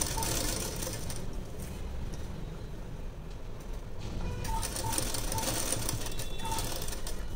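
Sewing machine stitching a bias tape border, a continuous fast mechanical whirr of needle strokes running close and steady from start to finish with slight shifts in pace.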